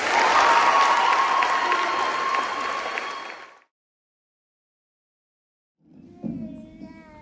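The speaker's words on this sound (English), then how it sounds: "So can we give our class of 2026 another round of applause?" Audience at a high school choir senior recognition applauding and cheering the class of 2026, a dense wash of clapping that stops abruptly, then after a pause a quieter crowd murmur with a voice.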